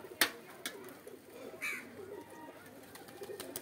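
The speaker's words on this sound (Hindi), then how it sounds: "ये सारे कबूतर उड़ रहे हैं" Pigeons cooing in short soft bursts with a few faint wing flutters, heard at moderate distance against light outdoor background noise.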